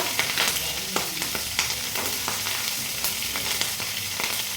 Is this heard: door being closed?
no